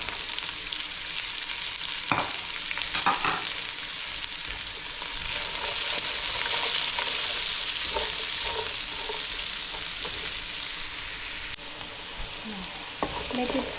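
Mushrooms fry in a hot pan for Nepalese masala vegetable pasta, giving a steady, close sizzle throughout with a few soft stirring clicks and scrapes, and no talking.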